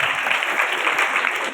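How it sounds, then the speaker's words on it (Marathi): An audience at a Marathi kirtan in a village claps together, a dense, steady burst of applause close by and without any pauses. "सर्वांनी एकदा टाळ्या वाजवा."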